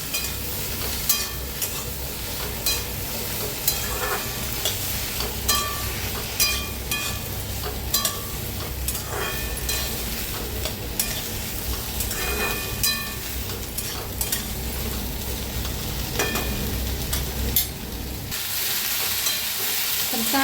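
Chopped green chilies, ginger and garlic sizzle steadily in a pan, with frequent metallic scrapes and clinks from stirring throughout, before the frying briefly quiets near the end.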